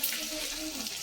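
Cumin seeds and onion frying in hot oil for a Bengali fish curry, a steady close broadband sizzle lasting about a second with faint voices underneath.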